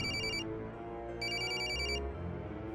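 A telephone ringing indoors in a Marathi TV serial home scene: two loud electronic ring bursts separated by a short pause, with no talk over them.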